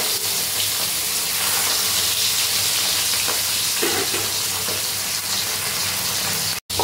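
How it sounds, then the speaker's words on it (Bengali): Pomfret fish sizzles and crackles steadily in hot oil over a medium flame, a dense continuous frying sound with no talking. "এবার মিডিয়াম ফ্লেমে রেখে আমি মাছগুলোকে এক এক করে ভেজে নেব।"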